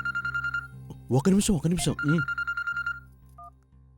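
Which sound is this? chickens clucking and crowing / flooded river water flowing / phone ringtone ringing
phone ringtone ringing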